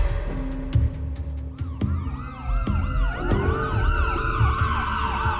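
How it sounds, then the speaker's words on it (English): Emergency sirens wailing after the Oklahoma City bombing, several overlapping rising and falling tones layered over street traffic and rumble, growing fuller and louder as more sirens join in. "Moments after the blast, sirens rose over Oklahoma City."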